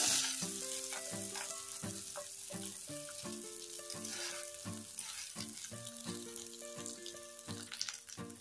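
Soaked rice for a sweet festive rice dish goes into a hot pan and fries with a soft, continuous sizzle, quiet beneath a louder melody of stepped musical notes.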